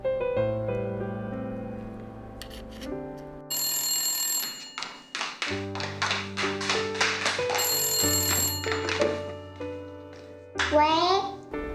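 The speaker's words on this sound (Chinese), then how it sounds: "来电啊！" A melodic phone ringtone sounds an incoming call in an office where staff are working overtime. Its tone pattern repeats loudly and close by for several seconds, mixed with bright chiming tones.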